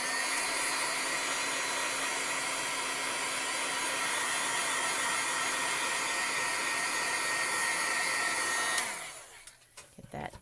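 A heat tool blows hot air to dry ink on a card, a loud steady whirring hiss that runs continuously and then cuts off abruptly near the end, followed by faint handling clicks.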